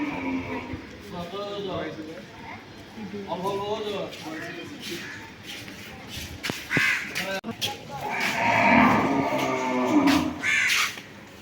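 A cow bought for Qurbani lows in an open cattle market, with crows cawing repeatedly nearby and people talking over the scene.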